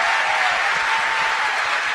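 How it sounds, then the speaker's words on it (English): Dense, steady audience applause fills the room at a tech summit in New York, a continuous wash of many hands clapping at even loudness with no pauses. "Can we get a round of applause for all the pitch competition?"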